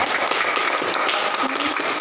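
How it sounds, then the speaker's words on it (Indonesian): A classroom of students claps together in a sustained, fairly loud round of applause, with scattered voices mixed in. "Tepuk tangan untuk tinta"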